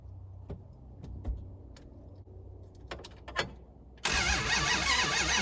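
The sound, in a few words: car engine cranking over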